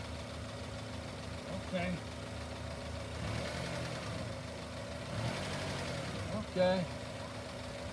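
A Honda car engine idling at low RPM, a faint, steady low hum with a few soft clunks, under brief speech.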